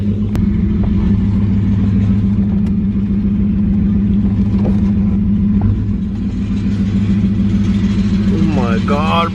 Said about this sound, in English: Alex has like a really bad misfire going on, and it sounds so nasty.